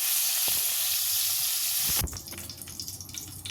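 Paneer pieces frying in hot oil, a loud dense hiss that cuts off abruptly partway, leaving quieter crackling and faint clatter from the pan.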